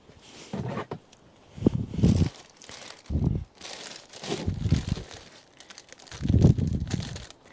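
Crinkly plastic rustles and crackles in several bursts with short pauses between, close by, as a bag is handled and cut.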